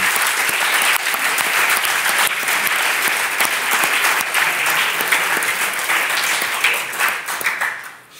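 Provincial council in Liège applauding the president's election by acclamation, sustained dense clapping from a roomful of people that holds steady for several seconds and then fades out.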